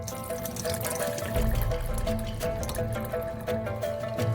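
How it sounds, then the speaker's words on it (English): Water poured off cooked black beans, a steady close splashing stream with soft dripping, no voices. "Drain the remaining water from the black beans."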